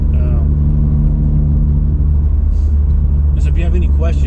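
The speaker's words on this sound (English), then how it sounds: "I just want to do a couple pulls there so you guys can see the acceleration" A Hyundai Veloster Turbo accelerates in a hard pull, its engine droning loud and steady from inside the cabin, with a brief chirp of other sound near the end.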